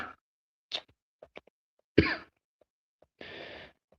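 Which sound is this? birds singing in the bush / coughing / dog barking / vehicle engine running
coughing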